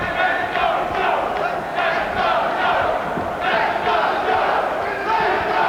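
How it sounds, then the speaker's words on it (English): At a boxing match between Joe Gatti and Matt Farrago, a large arena crowd chants and cheers in rhythmic, repeated surges, loud and sustained, with a rousing chorus of voices throughout. "And you'll hear the crowd."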